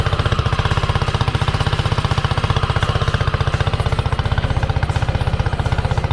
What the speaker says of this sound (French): je me retrouve sur un scooter 125